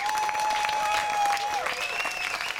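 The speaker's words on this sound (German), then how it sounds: "Das ist dein Applaus" Festival crowd at Sounds of Climate Aachen 2019 applauding in a dense wash of clapping, with a sustained whistle-like tone and some voices mixed in throughout.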